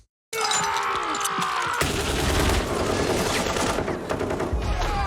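Intense gunfire from a Stranger Things season 4 episode erupts after a moment of silence, a dense, sustained fusillade of rapid shots with crashing, shattering impacts that stays loud throughout.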